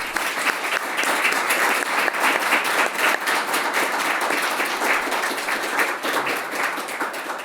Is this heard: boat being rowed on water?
no